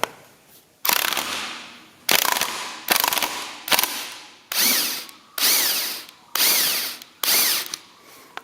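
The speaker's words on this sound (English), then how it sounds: "And I like to use a nut gun." A nut gun with a single hex socket works on a 1954 Ferguson TEA20 tractor, firing about seven loud, close hammering bursts, each roughly half a second long, separated by short pauses.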